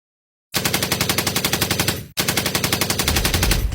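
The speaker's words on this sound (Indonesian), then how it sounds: "suara tembakan tiba-tiba bergema di langit Bandung." Rapid automatic gunfire rattles over Bandung at night in two long, loud bursts separated by a brief pause, each shot evenly spaced.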